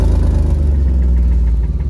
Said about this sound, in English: Don't be irritated by the sound of the engine because, like I said, the engine is broken.